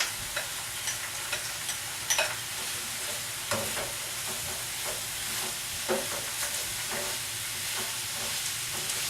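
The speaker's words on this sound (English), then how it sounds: "So I'm going to add all my mushrooms and garlic." Mushrooms and garlic sizzle in a pan for a mushroom cream sauce. A utensil stirs them in scattered scrapes and clacks over a soft, steady frying hiss, with no talking.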